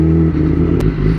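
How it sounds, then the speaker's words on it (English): A 2018 Kawasaki ZX-10R sport bike idling in neutral, a loud, close, steady low engine rumble with a slightly uneven pulse and a brief clattering tick partway through. "please let me know if yours also idles like that in neutral"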